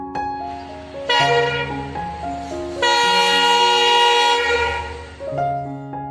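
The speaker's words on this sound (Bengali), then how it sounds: "ওয়ান শর্ট হর্ন অনেক সময় ছোট হর্ন দেন চালক" An Indian Railways train horn sounds in several sustained blasts, loud and close, with brief breaks between shifting chords; no talking.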